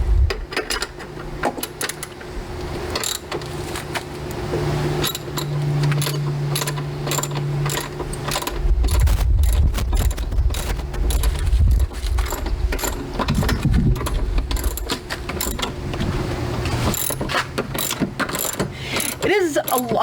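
Ratchet tool driving a long screw into a boat motor mount, repeated rapid clicking in bursts with short pauses and some metallic clanks and handling knocks, close and loud, running through a long stretch.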